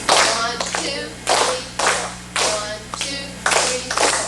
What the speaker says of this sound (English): Would you clap that pattern?